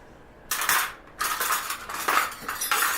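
A spoon pulled from a cutlery drawer at home while making pancakes from scratch: two bursts of bright metallic jangling and clinking, close and loud, the second longer, with no talk.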